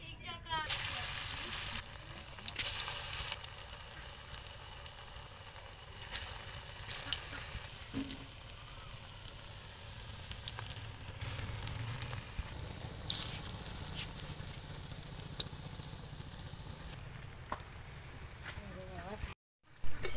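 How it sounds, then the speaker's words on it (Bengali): Lentil pakoras made with teasel gourd leaves fry in hot oil with a steady, crackling sizzle and occasional stirring and squishing, heard close and continuous while a person talks over it. "তেল গরম হয়ে গেছে এবার পকোড়াগুলো দিয়ে দেবো"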